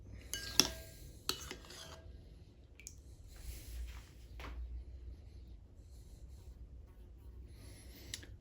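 An iron spoon stirs a homemade soap mixture of oil and lye, giving soft, sparse scraping clicks and a few sharper metallic taps against the container at a low level, with no talk.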